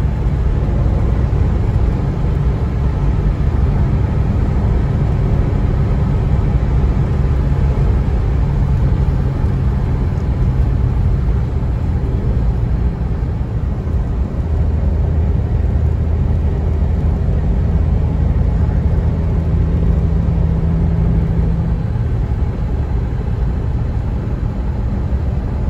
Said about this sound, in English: so you can see how this Desoto drives